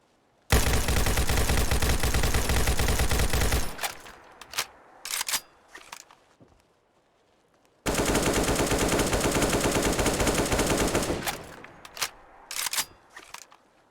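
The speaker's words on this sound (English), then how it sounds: "we also have the AKM Complex Gunshot sound replacer, and of course this is what that's going to sound like" AKM rifle gunfire in Fallout 4, using an AK-47 sound borrowed from CSGO: two long, loud bursts of rapid automatic fire, each followed by a few scattered single shots and echoing tails, with a short quiet gap between the bursts.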